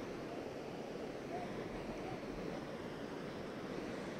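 Hukou Waterfall on the Yellow River in winter pours with a steady, dense roar of rushing water, a continuous broadband wash with no breaks and no talk over it.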